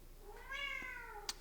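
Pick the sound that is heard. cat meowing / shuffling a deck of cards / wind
cat meowing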